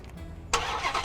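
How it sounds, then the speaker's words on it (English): A 2020 Dodge Challenger Hellcat with a 700-horsepower engine fires up after a key-fob start, a sudden loud burst following a quiet moment and holding steady, close by. "we're gonna go ahead and turn it on with the key fob"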